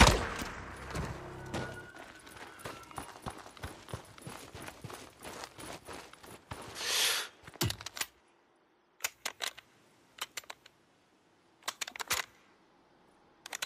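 Gunfire in the Days Gone video game: a burst of rapid shots early on, then a few separate sharp cracks spaced apart through quieter stretches.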